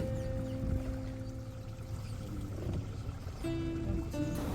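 A steady boat engine drones on a lake in Akagera National Park, Rwanda, with water rushing past the hull. The hum and splashing carry on for a few seconds with a brief tonal shift near the end.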